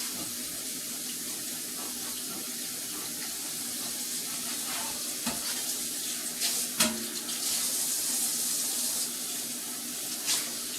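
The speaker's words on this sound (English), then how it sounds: "So I'm just going to clean this skillet." Water runs steadily from a kitchen tap into a sink while a skillet is cleaned during home cooking, a continuous rushing stream with a few brief clanks and splashes near the end.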